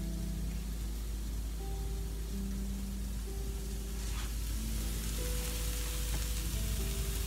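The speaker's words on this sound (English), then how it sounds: "put it on the stove with your stir fry." Carrots, veggie burger, onions and garlic stir-frying in a pan on the stove, giving a continuous close sizzle with occasional crackles and a steady low background hum.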